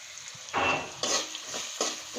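Vegetables fry with turmeric and chilli powder in a pan, close sizzling that swells in three short bursts as the mixture is stirred, then settles back; nobody speaks.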